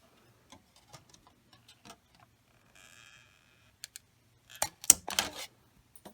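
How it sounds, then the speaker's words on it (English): A standard hole punch clicks through a sheet of shrink plastic for making charms, giving a few sharp, close, isolated snaps and clacks with quiet gaps between them, ending in a louder cluster of punching sounds. "I like to hole punch first, and then this is a standard hole punch"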